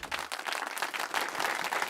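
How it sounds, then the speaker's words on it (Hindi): A studio audience bursts into sustained, dense applause for a school quiz team at a televised children's knowledge contest, the clapping steady and fairly loud throughout. "जोरदार तालियां उनके लिए"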